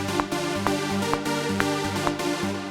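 A solo synth layer weighted toward the low end plays a repeating melodic pattern with even rhythmic note onsets, steady and prominent with no voices.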